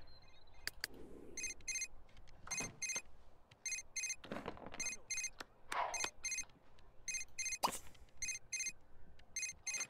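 A phone ringing in The Sims 3, a quiet electronic ring repeating in short evenly spaced bursts throughout, mixed with scattered game clicks and chimes.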